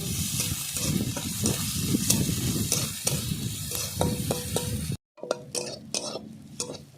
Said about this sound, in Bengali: চিংড়ি মাছগুলো একই সঙ্গে সব ভেজে নেব